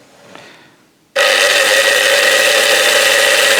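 A small electric motor in a Hornby Triang model train locomotive starts abruptly and runs loud and steady with a buzzing whine and a low hum, close by.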